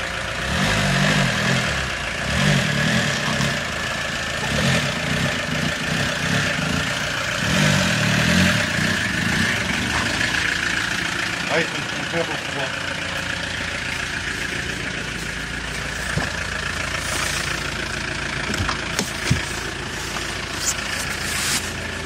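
An Italian sports car engine idles steadily with a low, rumbling tone, swelling in a few throttle blips before settling, heard close and continuous throughout.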